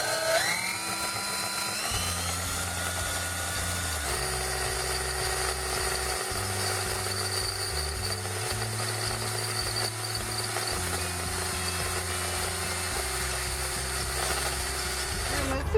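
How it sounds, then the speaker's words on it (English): A cordless power drill whirs steadily while boring out rivets on a two-seat patio swing frame, its motor pitch stepping up and down in several bursts over a low, continuous hum, close and prominent. "take your drill, and we're going to pop out these rivets right here"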